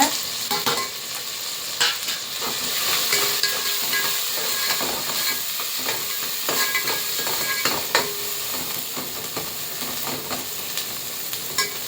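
Chili, turmeric and coriander powder sizzling in a pan, a steady bright hiss with frequent clicks and scraping stirs throughout, close and fairly loud.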